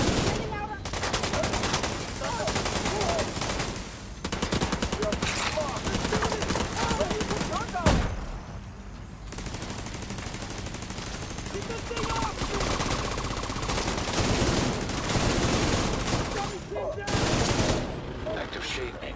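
Sustained automatic turret gunfire in the video game The Division 2, loud dense bursts running almost continuously with brief pauses, close and alone without talk.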